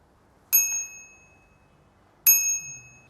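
Two bright pings from a bicycle bell mounted on the left handlebar of a Windone E20 electric bike, each a sharp metallic ding with a ringing tail, spaced about two seconds apart, close and clear.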